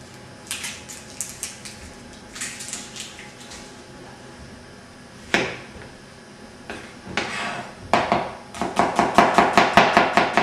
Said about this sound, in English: I'm going to grab just a quick brown onion. We're going to peel that quickly, and again we're going to julienne cut this as well